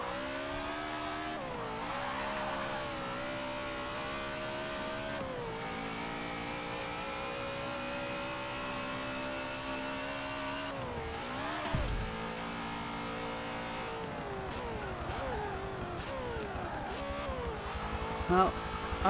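Holden race car in Forza Motorsport 7 racing around a track, its engine droning steadily with rising and falling revs through gear changes, loud and continuous throughout.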